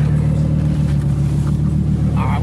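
Twin-turbo Audi R8 engine droning in a steady, loud low rumble from inside the car, constant throughout with no clear revs or speech.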